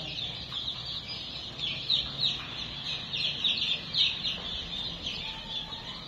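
A busy chorus of high, thin chirps from many chicks and young turkeys peeps steadily at close range.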